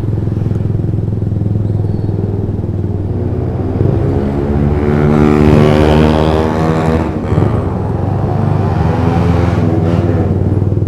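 A Ronin motorcycle fitted with a 3Tech three-sound exhaust (Black Katana) rides at night on a busy Saturday-night street, its loud, steady engine drone rising and falling with revs throughout.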